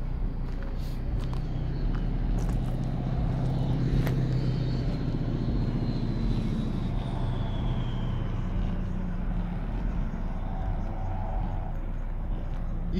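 Heavy car audio subwoofer bass, a DC Audio Level 4 12-inch setup, booms from a good distance outdoors as a low continuous rumble under faint street noise.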